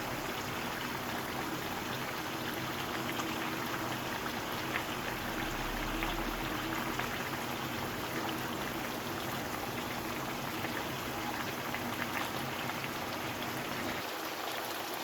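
Water in a pot heats toward steam beneath halved tomatoes laid cut-side down, giving a steady, even hiss and faint bubbling wash that runs unbroken throughout, with no talk.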